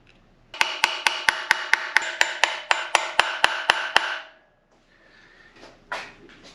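Rivets hammered into an identification tag on a dual range Hydra-Matic transmission, about fifteen sharp, evenly spaced metallic strikes in quick succession, loud and close, then a brief quieter rustle.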